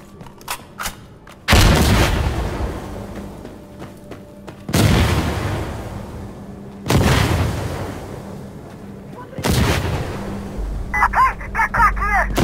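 Frag grenade blasts and gunfire in the game Insurgency Sandstorm: four heavy, booming explosions spaced a few seconds apart, each trailing off into rumble, with sharp shots before the first and a rapid burst near the end.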